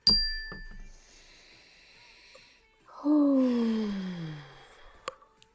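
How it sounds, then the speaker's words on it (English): A mindfulness bell rings once with a bright metallic strike, then a second, louder and lower bell tone sounds clearly and fades away slowly in a quiet room, with no talking over it. "when you hear the mindfulness bell"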